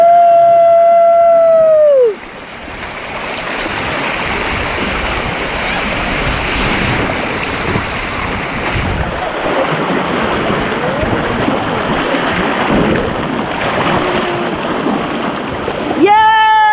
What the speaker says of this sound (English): We went over the rapids and somebody flipped.